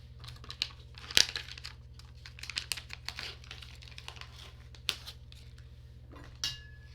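A plastic bag crinkles and rustles in irregular bursts, with sharp crackles and quieter handling between, while seaweed sheets and rice are readied for seaweed rice in a kitchen; close and fairly soft, with no talking.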